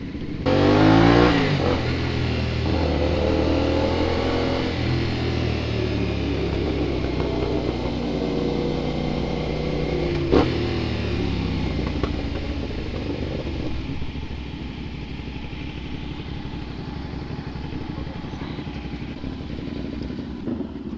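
A big bike motorcycle with a loud aftermarket exhaust pipe rumbles and revs hard nearby at night, opening with a sharp throttle burst, then settling into a deep, continuous, throbbing idle.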